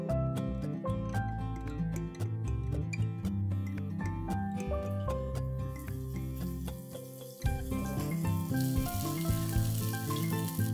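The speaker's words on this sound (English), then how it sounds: "Once the oil gets hot, I'm going to fry these idlis nice and crisp." Pieces of idli deep-frying in hot oil in a wok give off a steady sizzle beneath prominent background music, the hiss growing brighter in the second half.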